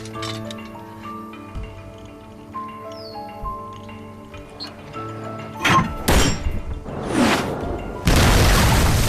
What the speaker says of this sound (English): Jack completed the launch in under 2 seconds and hit the target with pinpoint accuracy.